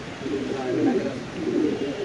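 A pair of large black fancy pigeons giving deep, throaty coos in two swelling bursts, close by, over a faint background.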